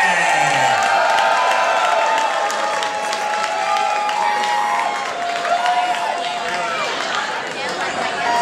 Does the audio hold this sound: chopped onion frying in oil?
no